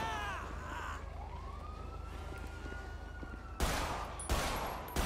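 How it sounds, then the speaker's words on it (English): Gunfire in a GTA-style video game: two loud broadband bursts near the end, over a steady rumbling game ambience with a rising siren-like tone earlier on. "What the fuck are you guys shooting at?"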